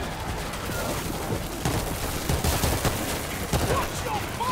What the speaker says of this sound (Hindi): मशीन गन चला रहा हूँ।